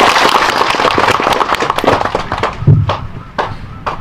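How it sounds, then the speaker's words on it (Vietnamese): An audience applauds patients who finished treatment at a clinic ceremony, with dense crackling claps that stay loud at first and then thin into scattered bursts. "Chúng ta hãy dành một tràng pháo tay dành cho 27 bệnh nhân đó"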